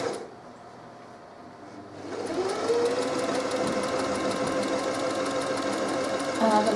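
A sewing machine stitching wadding scraps together starts after a quiet moment, settling into a steady, close mechanical whirr with a fast rhythmic needle chatter that runs to the end.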